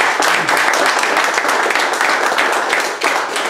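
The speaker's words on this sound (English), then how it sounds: "Would you give our volunteers a round of applause?" Audience at a Calgary leadership forum applauding volunteers, dense, loud, steady clapping from a room full of people, continuing unbroken throughout.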